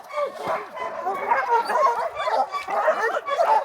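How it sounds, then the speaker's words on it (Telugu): Sled dogs scuffle and bark at a dog-sledding camp in the snow, a close, busy tangle of yips, whines and sharp barks that continues without pause. "ఇవి చూస్తేనేమో ఇవి కొట్టుకుంటాయి అంటే ఈ కుక్క ఈ కుక్కని డామినేట్ చేస్తాంది"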